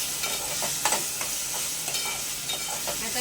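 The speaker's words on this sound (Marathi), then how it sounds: "टोमॅटो आणि आलं लसूण पेस्ट आपल्याला कांद्याबरोबर एक दोन मिनटं छान अशी परतवून घ्यायची आहे" Chopped tomato and ginger-garlic paste sauté with onions in a pan for a hotel-style chicken gravy: a steady close sizzle with a few scraping spatula strokes, no talking.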